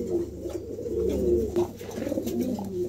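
A pair of blue barless toy Lahori pigeons coo close by in a low, continuous, throaty murmur that swells and rolls without pause.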